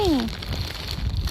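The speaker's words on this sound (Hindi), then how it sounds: "बारिश हो रही है।" Steady rain falls on a high Himalayan mountain trail on the Kedarnath Yatra pilgrimage route. It makes a dense, even hiss throughout, and a voice sounds briefly at the start.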